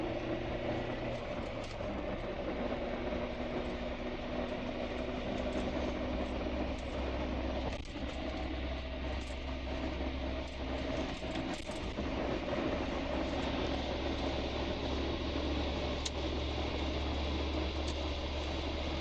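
A 1998 Chevrolet Tracker accelerates at a leisurely pace in third gear on a highway, with a steady low engine drone and constant road and wind rumble inside the cabin and no talking.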